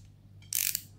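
A Skil ratcheting screwdriver gives a brief, close burst of rapid metallic clicks lasting about a third of a second, preceded by a faint tick, against a quiet background.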